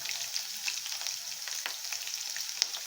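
Chopped green chilli and ginger sizzle steadily in a hot pan for a chilli paneer dish, a continuous bright frying hiss with small crackling pops throughout, no voices.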